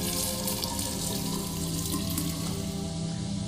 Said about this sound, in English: If I turned the faucet on, maybe the water would come on.